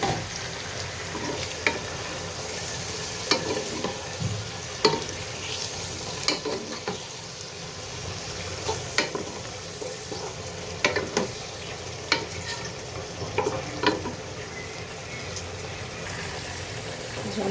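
Boiled vegetable stalks tipped into a pan with tomato for an egg-potato dal, stirred and frying with a steady sizzle and repeated spoon scrapes throughout, with faint talk underneath.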